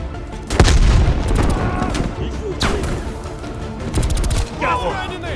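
A grenade goes off in Call of Duty Black Ops Cold War amid a firefight, with repeated sharp booms and gunfire bursts close by and a shouted voice over the chaos.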